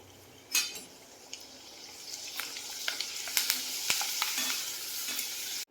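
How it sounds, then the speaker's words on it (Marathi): Grated potato shreds frying in hot oil, a steady close sizzle with a sharp burst as they go in, followed by crackling pops and occasional clinks of a utensil against the pan. "बटाटाचा कीस तळून घेऊ."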